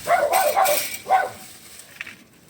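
Two dogs bark and yip in a farmyard during a potato harvest: a few close, sharp barks in quick succession, then a single fainter yelp.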